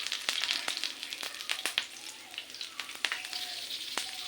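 Curry leaves on their stems fry in coconut oil in a frying pan over a medium flame, giving sharp crackling pops and spitting over a soft, continuous sizzle.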